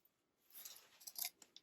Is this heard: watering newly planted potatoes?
no